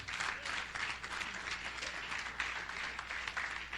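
A church congregation applauds during a sermon in a steady, dense wash of clapping that holds at an even level for a few seconds with no talk over it.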